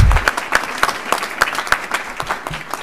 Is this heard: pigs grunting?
no